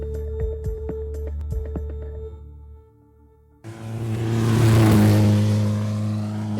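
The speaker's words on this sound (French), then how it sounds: "Et voilà une voiture de plus," A rally car on a wet road during the Rallye des Cévennes approaches with a rising engine roar and tire hiss, then sweeps close past, after an earlier stretch of musical tones.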